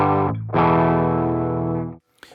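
Guitar run through the Coldfire distortion plugin used as an amp simulator, with light gain: a strummed chord rings out, a quick re-strike, then a long sustained distorted chord that cuts off, followed by a brief faint scrape.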